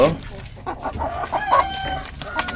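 Hill chickens, including crested hens close to laying, cluck and squawk in a cage nearby, with a burst of excited calls and a short crow-like cry amid faint background talk.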